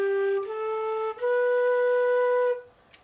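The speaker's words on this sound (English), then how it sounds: "This is the sound of the flute." Flute playing a few clear sustained notes in a short melodic line, pure and breathy with soft attacks, heard alone with brief gaps between phrases.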